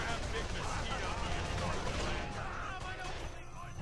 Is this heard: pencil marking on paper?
no